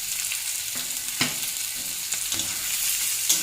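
Chopped prawns sizzle steadily in a pan with onion and garlic, a continuous close frying hiss broken by a few short stirring scrapes, with no one speaking.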